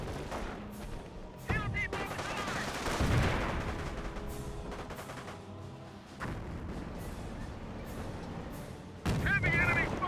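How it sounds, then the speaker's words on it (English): Gunfire and mortar blasts from a Company of Heroes match pop and thud in uneven bursts, with several heavy booms and crackling volleys over a backdrop of battle noise, while a voice talks intermittently. "Heavy enemy fire on our position. Mortar takes some pot shots."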